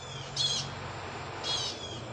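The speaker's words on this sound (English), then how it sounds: "Them birds getting it in." Outdoors, a bird gives two brief, high chirps about a second apart, fairly faint over a steady low background noise, with no one talking.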